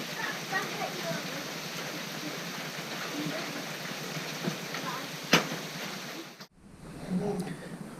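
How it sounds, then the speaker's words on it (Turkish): Rain falls as a steady, even hiss throughout, with a sharp click partway through and a brief drop before the sound resumes. "Ve gerçekten yağmur çok güzel yağıyor."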